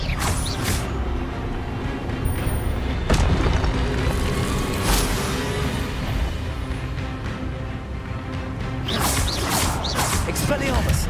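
Expelliarmus and other spells are cast in the Hogwarts Legacy video game, giving repeated booming impacts, whooshes and clanking, mechanical crackles over a dense, busy battle bed, with a voice calling out at times.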